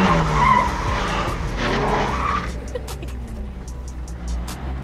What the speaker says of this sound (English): Think I can do a donut?